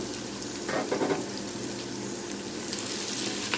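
Whole spices (two cinnamon sticks, cloves, three white cardamom pods, two bay leaves and black peppercorns) hiss and crackle in hot oil with a steady close sizzle and brief louder bursts early on, no voices.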